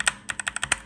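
Someone types on an Acer Predator Aethon 500 mechanical keyboard with Kailh Blue switches and perfume spilled under the keys, producing about nine crisp, clicky keystrokes in quick, uneven succession at close range.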